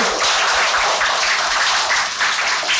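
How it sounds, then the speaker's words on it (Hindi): An audience of children claps together to welcome a guest, a dense, loud, sustained burst of applause from start to finish. "सब लोग ताली बजा के मैडम का स्वागत करिए"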